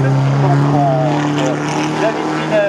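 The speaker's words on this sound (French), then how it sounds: "alors que passe maintenant la Nissan Car" A Nissan race car runs at a national hill climb in Hébécrevon, its engine a steady droning tone heard close while a commentator talks over it.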